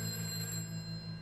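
Telephone ringing in the video game A Way Out, a steady electronic ring tone heard close over a constant low background hum.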